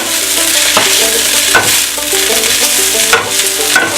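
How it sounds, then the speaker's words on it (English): Flank and skirt steak being stirred in a hot pan, with a loud continuous sizzle and repeated scraping strokes of the utensil against the metal, heard close and without talk. "Do it and stir it again one more time"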